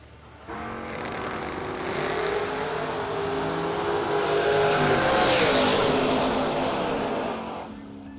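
At a drag strip Christmas event, a 1967 Dodge and a 1968 Chevy Camaro race, their engines building from a rumble into a loud, sustained roar that peaks and fades over several seconds, with no talk.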